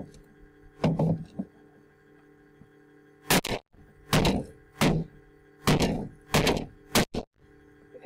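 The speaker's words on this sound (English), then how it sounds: "I'm just gonna bang on the support." Repeated banging on a nailed craft support piece, seven or eight loud, sharp thunks in an uneven rhythm, close and alone with no talk.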